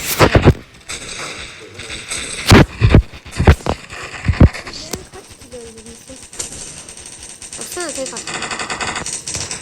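Rapid bursts of gunfire in a zombie shooting video game, with sharp loud shots in the first half and fainter, scattered shots later under game effects, while a player talks.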